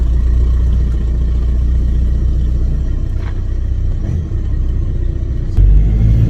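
A Volkswagen Golf Mk5 engine rumbles steadily close by and loud, with a brief rise in revs near the end as the car pulls away.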